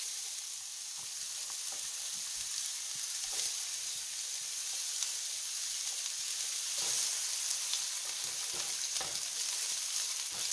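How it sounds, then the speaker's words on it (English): Onions frying in peanut oil in a pan for an eggplant and bell pepper stew, a steady bright sizzle with occasional crackles and stirring taps, close and continuous throughout. "I'm going to be using peanut oil for this stew. And to that, I'm just going to add in our onions"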